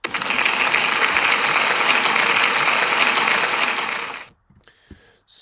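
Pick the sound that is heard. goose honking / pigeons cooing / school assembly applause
school assembly applause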